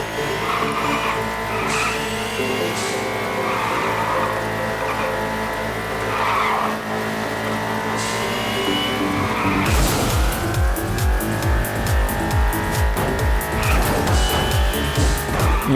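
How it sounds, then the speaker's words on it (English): Cars in an Xbox indie racing video game skid and squeal through a dense pack, engines droning steadily before a burst of rapid crash and tire noise takes over, loud and continuous with no talking. "that big mass of cars just all crashing and honking at each other"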